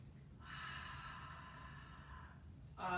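A deep, full breath drawn in during a gentle yoga flow, close and airy and sustained for about two seconds, followed by a brief louder burst at the end.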